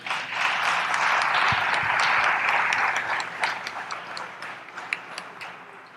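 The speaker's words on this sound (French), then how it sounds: "pour nous applaudir encore une fois" Applause from an audience after a lecture: dense, sustained clapping for several seconds, gradually thinning into scattered claps near the end.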